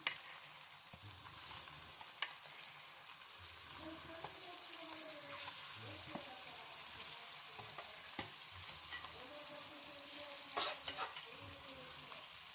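Cleaned fish pieces frying in a pan for a fish pulusu curry give a steady broad sizzle at moderate level, with scattered spatula scrapes and clicks throughout and no voices.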